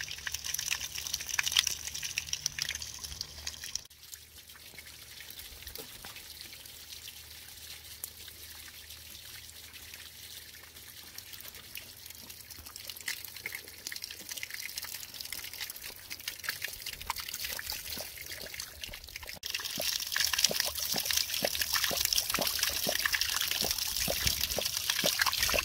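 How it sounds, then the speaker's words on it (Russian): Tap water running to fill a puddle for kittens, a continuous trickling and splashing stream that briefly quiets then grows brighter and stronger toward the end. "Включаем водичку, набираем лужу и..."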